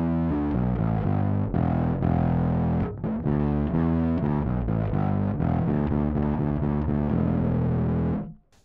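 Electric bass played through an MXR overdrive pedal set for a vintage, lightly gritty drive. A loud, close riff of repeated and moving notes runs steadily for about eight seconds, then cuts off.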